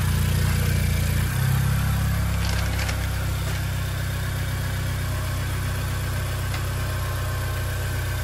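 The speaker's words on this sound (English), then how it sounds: "I'm gonna have them rev it right now too." A Honda Civic 1.5T with a new Magnaflow exhaust and Rev9 intercooler is revved once up close, then settles into a steady, droning idle.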